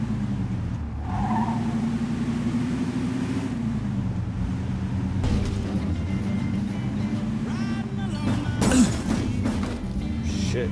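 Car engine droning steadily while driving in the Mafia II video game, a continuous low hum with a brief louder burst near the end.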